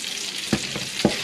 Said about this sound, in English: so now we've got our potatoes in our skillet and we've got them frying